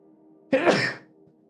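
A single sharp, loud sneeze from a person during a tabletop role-playing game session, bursting out of a quiet room and fading within half a second.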